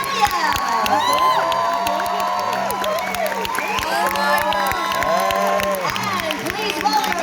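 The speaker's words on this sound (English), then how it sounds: "Give a round of applause, starting with Seth Gabriel." Comic con audience at Liverpool cheering and applauding for Walking Dead cast members as they are welcomed on stage, a steady loud roar of crowd noise with whoops and clapping throughout, alongside an amplified voice.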